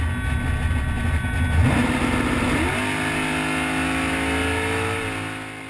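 A super gas drag racing car roars down the strip at full throttle, its loud engine note climbing steadily through rising gear sweeps before easing slightly near the end, heard from close range.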